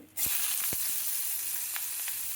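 Onions frying in a pan as the base for a mutton curry with bottle gourd (sorakaya), giving a steady, close sizzle with a few soft stirring knocks throughout.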